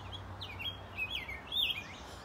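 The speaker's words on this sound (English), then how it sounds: "We got a cool bird right there, Holly." A red-breasted grosbeak in a park gives a short series of faint, sweet whistled calls, three or four rising and falling phrases over a quiet background.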